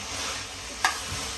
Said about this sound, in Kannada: ಆಯಿಲಲ್ಲಿ ಒಗ್ಗರಣೆಲಿ ನೀಟಾಗಿ ಒಂದು 5 ಮಿನಿಟ್ಸ್ ಇದನ್ನು ಫ್ರೈ ಮಾಡ್ಕೊಂಡು